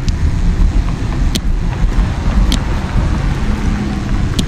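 A car passes a cyclist riding near the right edge of a wide road, its motor rumble blending into steady heavy wind buffeting on the microphone, with a few sharp ticks over the constant roar.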